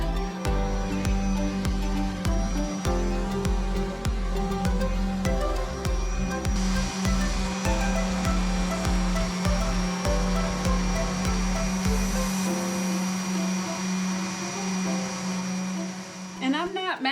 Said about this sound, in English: Now I'm just going to get this sanded down before I start the bottom piece where the cookbook will rest on.